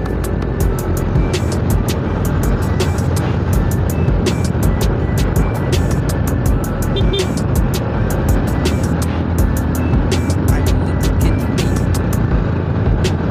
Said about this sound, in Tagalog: Diba, daming sasakyan dito sa Kawayan.